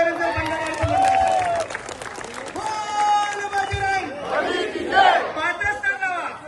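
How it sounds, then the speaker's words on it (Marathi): A crowd at a Dahi Handi festival cheers and claps for a human pyramid team, loud whoops and shouts over scattered applause, with music and talk mixed in the noisy outdoor scene. "त्यांच्यासाठी पुन्हा एकदा जोरदार टाळ्या"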